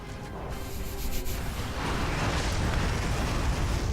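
A rumbling explosion in the space strategy game Ancient Space, a broad loud blast that rolls on as a sustained roar for several seconds.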